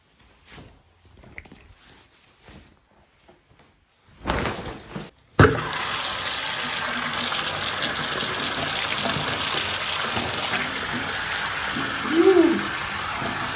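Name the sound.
tap water rinsing a wound at a sink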